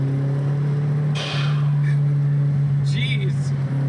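An MK4 Volkswagen Golf GTI turbo engine drones steadily under load from inside the car while pulling through the gears, with a low constant hum and brief bursts of noise as a voice talks over it.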